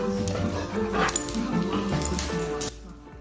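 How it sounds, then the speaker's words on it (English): Several puppies yip, whimper and bark in a busy, continuous jumble, fairly close and loud, with speech-like sounds mixed in before the noise drops off near the end. "Oh, let's watch the puppies."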